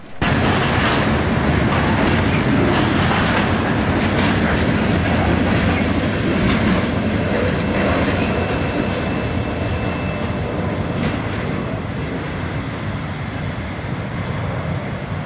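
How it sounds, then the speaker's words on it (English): Freight unit trash train running from New York City to Mingo Junction, Ohio, rolls past in Pennsylvania; a loud, steady roar of railcars with clickety-clack wheel rhythm fills the whole stretch, close by, no voices. "63V is a New York City to Mingo Junction, Ohio unit trash train."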